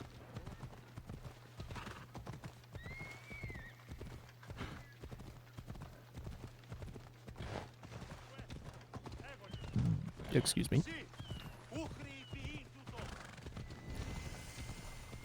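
A horse gallops in the Assassin's Creed video game, its steady clip-clop hoofbeats running throughout, with a whinny and brief louder clatter near the middle and a voice speaking over it.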